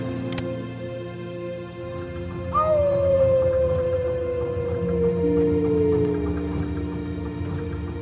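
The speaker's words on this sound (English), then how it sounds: "You howled at the moon, at the top of your lungs." A long, rising-then-falling howl at the moon from the video game Before Your Eyes rings out over a steady, humming musical background.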